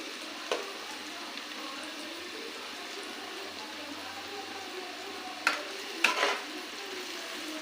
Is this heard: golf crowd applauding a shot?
no